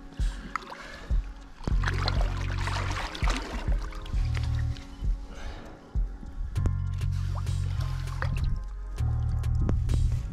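A large carp of about 11 kg is released back into the water during winter carp fishing, with close splashing, squishy wet handling and dripping, and low rumbling noise throughout.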